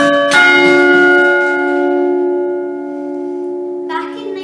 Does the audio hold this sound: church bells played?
yes